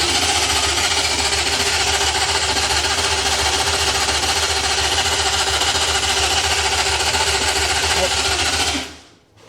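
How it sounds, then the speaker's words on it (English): A Volvo 245 fitted with a Lamborghini engine cranks over loudly on its first start, with a rapid, steady mechanical churn that runs for several seconds, then cuts off abruptly. "So yep, start engine, so start crank."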